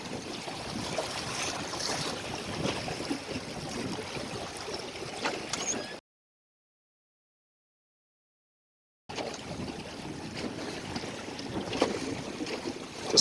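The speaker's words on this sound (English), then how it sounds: "Wind picked up again, so we're moving along really nice." Steady wind rushes past a 14-foot motor-sailer gliding along open water, a constant airy roar with light splashing that drops out completely for a few seconds midway before resuming.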